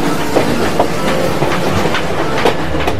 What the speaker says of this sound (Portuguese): Imagina você quando chega a ferrovia.